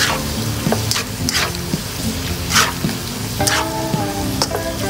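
Mushrooms, snow peas, black fungus and carrots sizzle as they are stirred and sautéed in a pan with oyster sauce and mushroom seasoning, a steady close fry broken by scraping utensil strokes.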